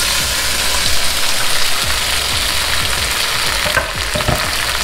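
Yellow squash, onions and red pepper stir-frying in a wok, a loud continuous crackling sizzle with rhythmic scraping stirs pulsing close by, and no voices.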